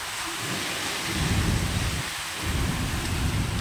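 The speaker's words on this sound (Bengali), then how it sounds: "আর প্রচন্ড মেঘ ডাকছে, তোমরা তো আই থিঙ্ক শুনতে পাচ্ছ।" Heavy rain pours steadily during a thunderstorm, with low rolling thunder swelling in two long waves beneath the downpour, loud and close, without speech.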